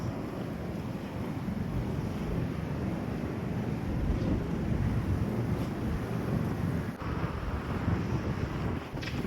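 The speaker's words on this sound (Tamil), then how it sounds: "காத்துக்கும் அதுக்கும் எப்படி இருக்கு பார்த்தீங்களா பாலைவன காத்து குளிர் காற்று காத்து அடிக்குது" Strong, cold desert wind roars steadily and loudly into the microphone, a dense unbroken rush with buffeting gusts and no voices.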